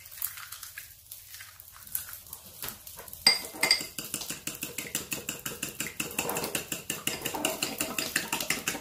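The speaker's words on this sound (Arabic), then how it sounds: "نطربو البيضة الأخرى" Egg being whisked with a fork in a bowl, starting with a few clinks of metal against the dish, then a fast, steady rhythmic tapping and beating, close and fairly loud.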